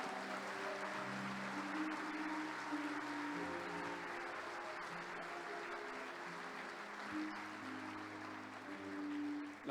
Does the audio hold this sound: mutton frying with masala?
no